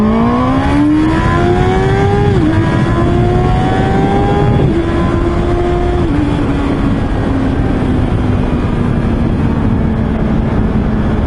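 A Honda CB650R motorcycle engine revs hard above 8000 RPM at high pitch, climbing through several gear shifts with brief dips, then settles into a sustained high-speed drone.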